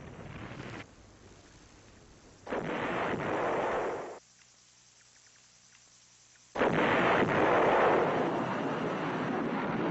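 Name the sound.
artillery fire and bombing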